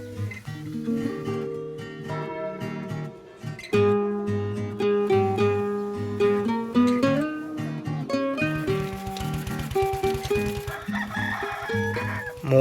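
A rooster crows repeatedly in a rural Kerala home setting, its calls sounding alongside tonal background music that runs throughout.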